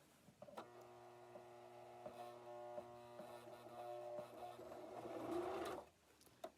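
A sewing machine runs steadily over an existing stitch line, a continuous motor hum with a fast stitching buzz that grows a little louder before stopping abruptly near the end.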